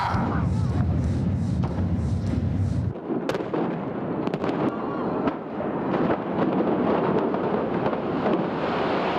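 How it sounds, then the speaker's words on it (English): Ship cannons fire a broadside in a staged pirate show on the Las Vegas Strip, heard as a loud booming blast after a shouted command, followed by crackling bangs and crowd noise. "Captain of the Britannia, prepare broadside. Ready, aim, fire!"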